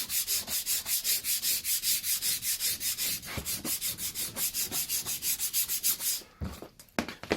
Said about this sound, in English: So it's now time for us to, you have to sandpaper it.